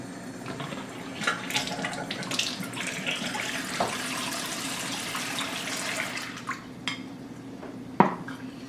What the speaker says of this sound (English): this is water from the faucet